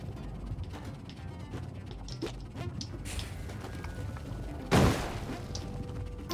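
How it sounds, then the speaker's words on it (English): A single bomb explosion in Spelunky 2, one sharp booming blast near the end that decays quickly, over a busy background of quieter game clatter. "We're just going to use a bomb."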